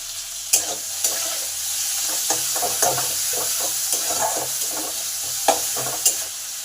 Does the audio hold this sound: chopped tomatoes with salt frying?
yes